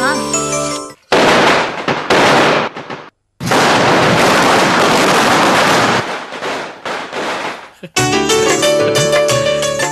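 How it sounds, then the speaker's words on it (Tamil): Large firecrackers burst in loud, sharp cracks and rolling bangs, several in quick succession with short gaps, during a Tamil family scene as music swells at the start and end. "இவ்வளவு பெரிய பட்டாசை கொஞ்சம் கூட தயக்கமே இல்லாம வெடிக்கிறீங்க?"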